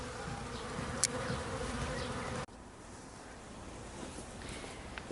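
A package of about ten thousand honey bees clustered in a box gives off a steady, dense buzzing hum. The hum drops in level partway through, then continues quieter but unbroken.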